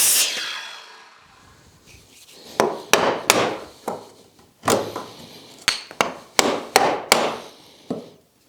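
A chisel struck while cutting timber frame wood: a dozen or so irregularly spaced, solid knocking blows, close and fairly loud, some in quick pairs, with gentle rustling between hits.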